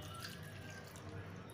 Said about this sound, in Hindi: तो इसमें हम लोग पानी डालेंगे